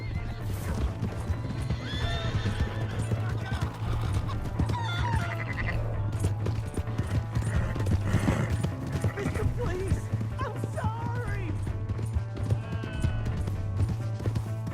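A horse whinnies and hooves clip-clop in Red Dead Redemption 2, with neighs and hoofbeats mixed into a busy game scene of shouting voices and other animal calls, close and fairly loud.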